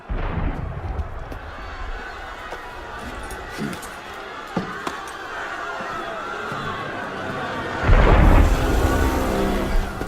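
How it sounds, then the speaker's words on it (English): Distant booming blasts of cannon fire in Assassin's Creed Unity, with scattered thuds and crackles under voices, swelling into a louder rumbling barrage near the end. "That was cannon fire."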